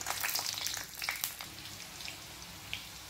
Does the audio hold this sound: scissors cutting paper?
no